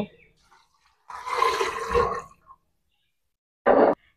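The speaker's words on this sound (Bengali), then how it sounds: "সাথে পরিমাপ মতো পানি দিয়ে নিব" Water is poured over lentils with a piece of potato in a pressure cooker: a splashing pour of about a second and a half, a short pause, then a brief second gush, close and clear in a quiet room.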